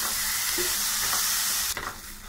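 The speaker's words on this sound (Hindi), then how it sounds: "कांदा, टोमॅटो, लसूण, आलं आणि काजूची पेस्ट घालूया, परतून घेऊया व्यवस्थित।" Onion, tomato, garlic, ginger and cashew paste sautéing in oil for mushroom masala, with a steady broadband sizzle, a few spoon scrapes, and the frying noise dropping slightly near the end.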